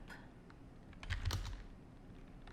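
Quick bursts of typing on a computer keyboard, close and fairly soft, with a cluster of keystrokes in the middle of a short pause between commands.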